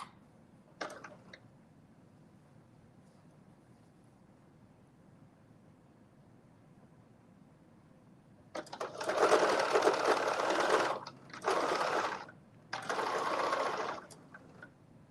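A sewing machine stitches a seam on a McCalls 8037 garment, leaving a gap for elastic: a faint click, then quiet, then three close bursts of rapid mechanical whirring separated by short pauses.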